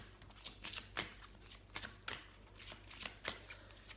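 Tarot cards are shuffled close up in quick, crisp bursts of riffling and snapping, about a dozen short flurries in a steady rhythm, with no talking.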